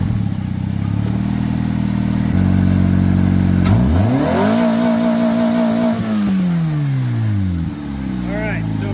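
A Suzuki car engine, deliberately abused with foreign substances, revs hard, pitch climbing and falling through several surges, loud and close with a rattling idle underneath.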